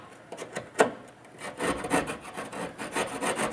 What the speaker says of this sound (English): You can also take the knife, like that, and just kind of clean up your edges.